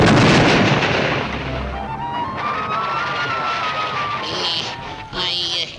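A cartoon talcum powder explosion opens with a big booming blast that rumbles and fades. A rising whistle-like tone and bright musical accents follow, loud and up close.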